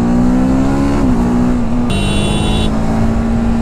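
A 2023 TVS Apache RTR 310 motorcycle accelerates hard at full power. Its loud, close engine drone rises steadily in pitch, dips briefly at a gear change, then climbs again. No one speaks.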